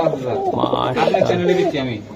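Racing and Budapest pigeons coo softly at a market pigeon stall, their low calls partly buried under close, ongoing conversation.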